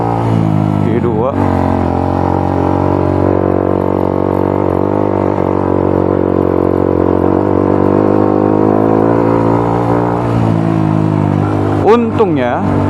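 A Honda CRF150L motorcycle engine pulls in second gear on a ride through eastern Bali, a loud steady drone that climbs gently in pitch, with a voice talking over it near the start.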